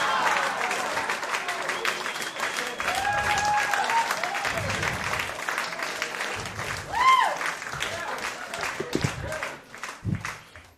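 An audience at a magic show claps for two volunteers, a full round of applause with a few voices and cheers mixed in, fading out toward the end.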